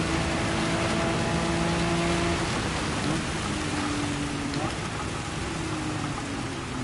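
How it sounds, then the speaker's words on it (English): Heavy rain pours during a race in the video game Gran Turismo 7, a dense constant hiss over a low car engine hum that holds steady, with engine tones shifting underneath. "We got some heavier rain coming in now."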